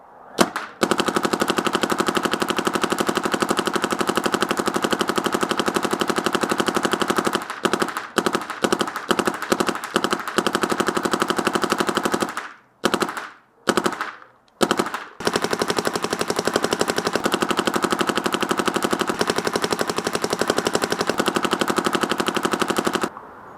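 Planet Eclipse Lv1.1 paintball marker firing at 12.0 psp in long rapid-fire strings, a loud dense mechanical rattle of shots that breaks into short bursts and single pops midway before resuming steady full-rate fire.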